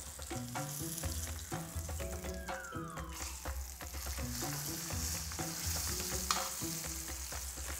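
Skate fillet pan-frying after the flip, a steady bright sizzle filling the pan with soft utensil taps and scrapes underneath, close and continuous with no talking.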